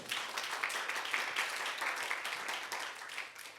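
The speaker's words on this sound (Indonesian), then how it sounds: "Tepuk tangan kita buat Tuhan" Steady applause from a church congregation at a Sunday service, a dense wash of clapping that holds at an even level for a few seconds.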